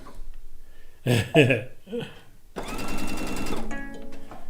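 A sewing machine stitches a seam on a blue and white quilt top while its bobbin thread runs low; a few soft handling knocks come first, then a continuous close mechanical whirring run of stitching.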